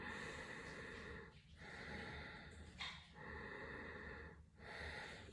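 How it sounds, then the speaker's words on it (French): Breath is drawn gently through a congested nose in slow, soft inhales, separated by short pauses, close and quiet with no talking. "j'inspire doucement par le nez"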